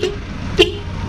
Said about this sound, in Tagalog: So testing natin busina.